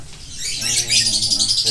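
Caged pet songbirds chirp in a dense, bright, overlapping stream of tweets, close by and fairly loud, with no talking.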